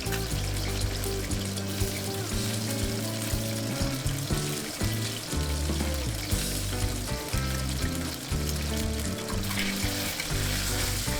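Diced chicken with peppers stir-fries in a pan over high heat, giving a loud, continuous sizzle with steady tossing and scraping throughout.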